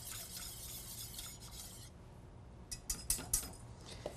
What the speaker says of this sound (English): Just want to whisk those spices together.